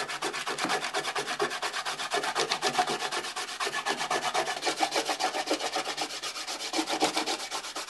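Dried paint being rubbed off woodwork with fingers, a dense rapid rasping scrub repeating in a fast even rhythm, close and fairly loud throughout, with no voices.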